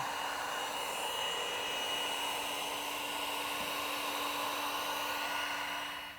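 A heat gun blows a steady, even whoosh with a faint constant hum while post-heating vinyl wrap on a Tesla Model 3 Highland trunk lid, running unbroken for several seconds before tapering off at the end.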